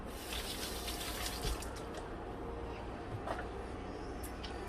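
Water runs steadily from a kitchen faucet while something is rinsed off during a roast turkey dinner prep, a constant close hiss with no talk.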